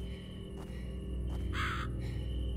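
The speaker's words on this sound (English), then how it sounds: "Shut up, Crow." A crow caws in the video game The Survivers, one harsh call standing out clearly over a steady low game ambience.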